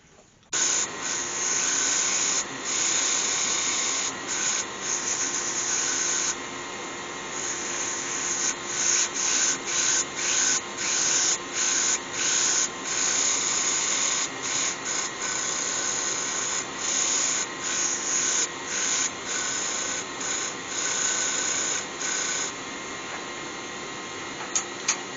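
Dust extractor running steadily while a wooden bowl is sanded, a constant loud airy hiss with rubbing, scratchy sanding strokes that cut in and out rhythmically over it, no talking.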